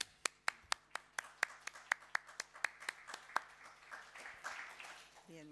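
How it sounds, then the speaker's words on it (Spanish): Scattered audience clapping at a lecture on illuminated codices, starting as distinct individual claps that quickly build into a soft, steady round of applause, with a voice beginning to speak near the end. "Un aplauso."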